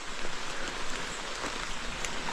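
Spring rain patters steadily at a riverbank campsite, a broad even hiss with scattered nearer drops, no talking.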